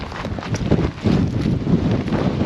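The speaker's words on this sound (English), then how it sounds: "Holy cow, as I make my final ascent, it is windy out." Strong mountain wind on the final ascent of Wasson Peak, Saguaro National Park, Arizona, pounds the microphone in a continuous rumbling roar that swells after a short dip, with no voices.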